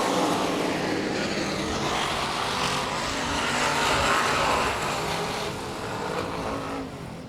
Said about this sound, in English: side-by-side racing